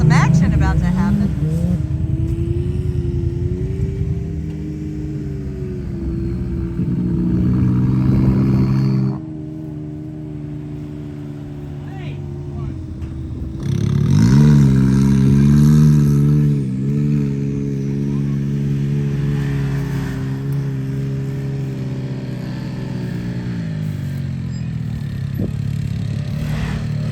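Stock trucks on 44-inch tires rev and roar at an off-road park drag race, deep engine drones rising and falling, with a loud surge midway, while people talk nearby.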